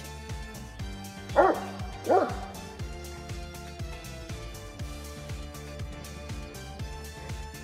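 A young 1.5-year-old Moscow watchdog named Igadar gives two loud, deep barks in quick succession, close by, over steady background music and a voice.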